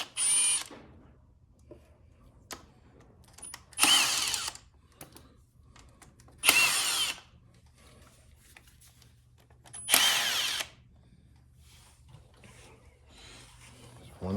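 A power tool drives out 8mm bolts on the engine cover of an XR650R motorcycle, heard as three short, loud whirring bursts spaced a few seconds apart, with quiet handling noises in between.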